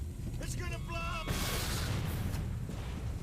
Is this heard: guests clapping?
no